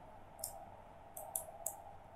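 Keys click on a computer keyboard while Node.js code is being typed, a few faint, sharp taps close by in a quiet room with a low background hum, one isolated and then three in quick succession.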